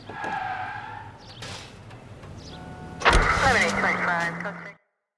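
Car engine in the L.A. Noire video game cranks and catches, then revs and idles, with a short mechanical whir beforehand and voices talking in the background.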